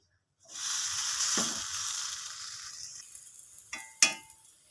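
Pea-stuffed puffed dough deep frying in oil, a bright sizzle bursting up suddenly and then slowly easing off, with a couple of sharp clinks from a utensil near the end.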